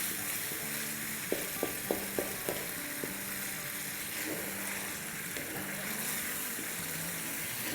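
Karahi keema frying with yogurt and slit green chillies, a constant bright sizzle with a few light spoon taps against the pan early on, close and even, no voices.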